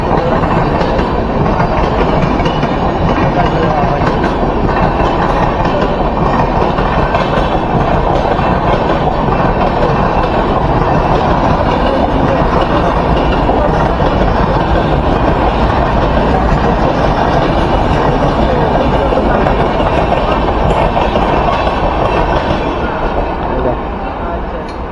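A train at Kanjurmarg station on the Mumbai suburban line rumbles loud and close, a continuous heavy roar with faint rail clatter that holds for the whole stretch.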